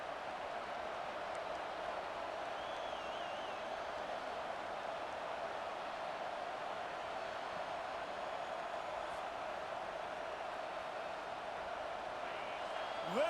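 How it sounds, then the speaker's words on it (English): Stadium crowd at a college football game between USC and Nebraska, a steady, dense roar of cheering filling the background, with a commentator talking over it. "Listen to this crowd just shaking the girders of this place, trying to help their defense."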